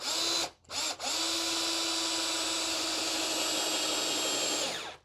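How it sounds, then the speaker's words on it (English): A small cordless drill drives a screw, whining steadily at close range, with a brief stop and restart near the start and then a long continuous run before spinning down at the end. "this is a small drill"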